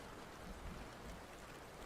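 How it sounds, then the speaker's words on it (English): Soft, steady morning rain falls outdoors, making a quiet, continuous hiss with no voices over it. "It is raining."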